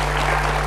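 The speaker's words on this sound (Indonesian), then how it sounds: "Kita beri tepuk tangan." A crowd at an Indonesian celebration for senior citizens breaks into applause, a brief, loud burst of dense clapping over a steady electrical hum.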